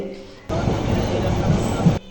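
A passenger train in motion on a first train journey, a steady close rumble from inside the carriage lasting about a second and a half between quieter moments.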